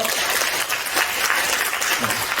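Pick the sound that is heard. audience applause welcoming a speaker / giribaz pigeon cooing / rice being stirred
audience applause welcoming a speaker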